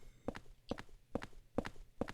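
Five evenly spaced footsteps echo in the Silent Hill 4: The Room video game, a steady, fairly quiet walking rhythm with no talk.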